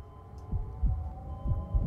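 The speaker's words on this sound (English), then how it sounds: "Heartbeat." A slow, heavy heartbeat thumps in the Port of Call video game, four deep, close beats in a lub-dub rhythm over a steady low electronic hum.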